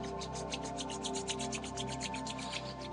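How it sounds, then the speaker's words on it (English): Palms rubbing briskly together during a yoga session, a rapid rhythmic swishing of about five strokes per second, close and soft, with no voices. "Rub your palm together"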